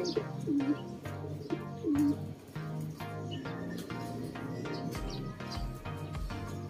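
Pigeons coo repeatedly close by, soft throaty rolling calls overlapping in a steady rhythm, with a few brief chirps and rustles.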